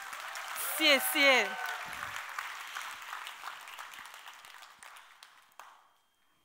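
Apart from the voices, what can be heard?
audience applause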